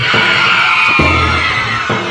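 Women in a crowd at a DJ party in Cuiabá scream and shriek together in a dense, continuous wash of high voices that stays loud throughout, with low bass thumps underneath.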